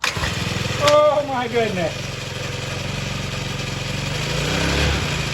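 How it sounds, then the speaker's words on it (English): A tiny kid's motorcycle engine is yanked with a pull starter, catches and runs at a steady buzzing idle close by, while a person exclaims over it near the start. "It's got the old pull starter."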